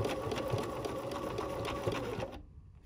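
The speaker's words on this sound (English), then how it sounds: "Just doing my outline stitching around the body" Domestic sewing machine stitching an outline around a fabric butterfly body, a fast steady whirring run close up that stops abruptly near the end.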